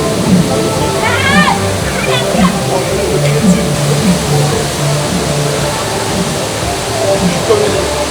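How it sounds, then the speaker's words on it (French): Steady, loud rain roars and splashes continuously in Vietnam while people talk over it. "Et là il pleut."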